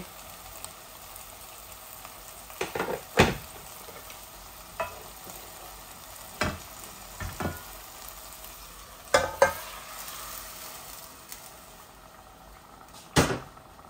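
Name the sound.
hilsa fish pieces poured into a hot pan, sizzling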